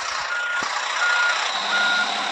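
Reversing beeps of a truck in the Truckers of Europe 3 driving game, a steady repeating tone over a continuous engine hum, heard alone without talk.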